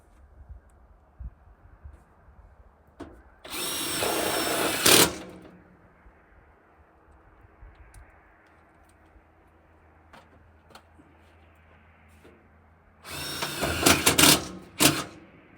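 A power drill drives screws into a stove pipe during installation, giving two loud whirring bursts of a few seconds each, separated by quieter shuffling and handling noise.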